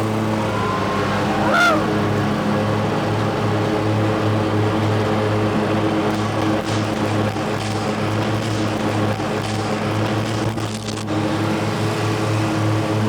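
A Toro 4000 and a John Deere Z960M zero-turn mower race side by side with blades engaged, their engines making a loud, steady droning hum with a faint whine that holds throughout.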